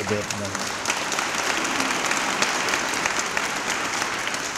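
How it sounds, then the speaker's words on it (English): An audience at a Georgia military veterans hall of fame unveiling ceremony gives steady, dense applause that continues at an even level throughout, with brief voices heard at the very start. "Let's give them a great round of applause."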